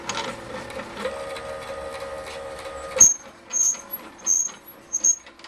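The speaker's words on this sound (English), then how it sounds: "nasty sounds I was getting. Just using my cheap router" A cheap B&Q wood router on a DIY CNC machine hums and rattles steadily up close for about three seconds, then cuts off abruptly, leaving several short high-pitched squeaking or hissing bursts.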